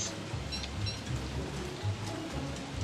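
Frog rain falling in the survival video game Don't Starve: an even, continuous patter of raindrops with occasional dull low thuds, steady and unbroken, no voices over it.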